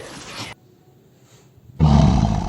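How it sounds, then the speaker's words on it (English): A lion roars in two loud, close bursts, a short one at the start and a longer, deeper one after a quiet gap of about a second. "Lion, a large cat of the genus Panthera, native to India and Africa."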